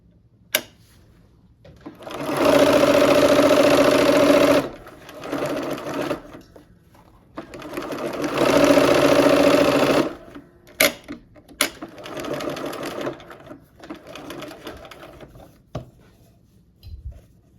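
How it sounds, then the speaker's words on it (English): Sewing machine stitching pinned rows of a cherry blossom quilt together, running in two loud sustained bursts of steady whirring with brief pauses and small handling clicks between them, no talk. "And now let's sew the row together."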